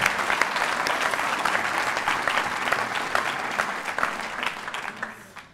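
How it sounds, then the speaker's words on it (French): Applause from the audience at a political rally in Rilhac-Rancon: a dense, sustained wash of clapping from a sizeable crowd, even and fairly distant, tapering off slightly at the end. "On peut vous applaudir."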